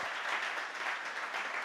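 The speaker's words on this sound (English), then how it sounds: "please give me a warm applause because it's now time for our startup pitches" A large audience applauds at a digital tech summit: a brief, fairly quiet and distant wash of many hands clapping, steady and even throughout.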